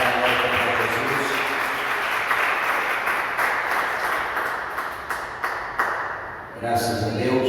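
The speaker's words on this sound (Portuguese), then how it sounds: "Desocupe vossas mãos e dê uma salva de palmas para Jesus." A church congregation breaks into sustained, loud applause for Jesus during a service, a dense roomful of clapping with voices calling out over it, briefly dipping near the end before swelling again.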